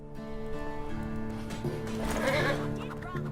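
Horses in the Lego Marvel Super Heroes 2 video game whinny and snort amid clip-clopping hooves, with a rising neigh near the middle, all set against game music.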